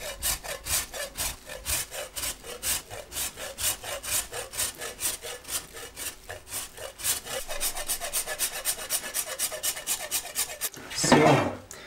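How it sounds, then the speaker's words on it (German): A block of candle wax is rubbed by hand over a pile of wood shavings to make homemade fire starters, giving a quick, rhythmic series of dry scraping strokes that stay close and even, ending in a brief louder rustle. "das Wachs über meine Holzspäne hier drüber zu reiben"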